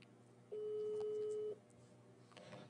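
A telephone call rings out on the line as a single steady electronic tone lasting about a second, faint beneath low background room noise.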